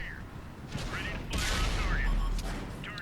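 Tank gun firing in World of Tanks, a heavy blast with rumbling low boom and mechanical clatter, loud and close amid in-game battle noise.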